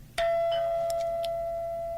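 Electronic doorbell pressed once at a house door, ringing a clear sustained chime tone that rings on steadily and loud nearby, with no voices.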